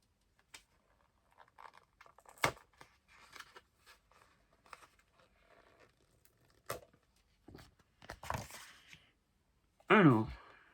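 Unwrapping a Blu-ray steelbook, with quiet plastic crinkles, taps and rustles scattered over several seconds and a louder crackle of wrapping near the end, heard close and sparse.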